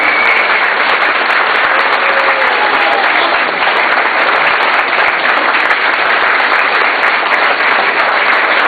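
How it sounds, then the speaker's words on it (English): An audience at a squeeze box music night in Cadott, Wisconsin applauds the evening's musicians, loud continuous clapping that fills the room evenly for nearly nine seconds, with a faint whistle or cheer early on. "Everyone give a round of applause for all the people that played tonight"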